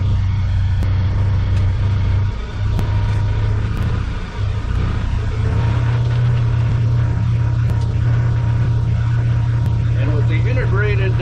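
A four-wheel-drive truck in full four-wheel drive climbs a muddy hill, its engine giving a steady, loud low rumble that swells as it pulls up the slope, with people talking over it.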